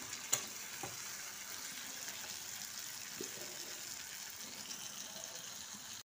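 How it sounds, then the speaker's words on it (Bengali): Chicken korma masala with chili paste and salt sizzles as it is sautéed in a pan, a soft steady frying hiss broken by a few light stirring clicks. "এবার খুব ভালো করে এটাকে কষিয়ে নেব"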